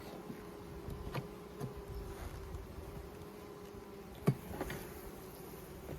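Angry honey bees buzz during a mid-August hive inspection, a faint continuous droning hum with individual bees passing close now and then, plus light handling clicks.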